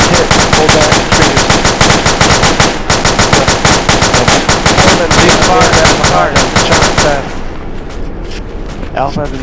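Rapid, loud automatic gunfire rattles almost continuously from an ArmA II infantry battle, dense bursts of machine gun fire that drop away near the end, with radio chatter faintly underneath.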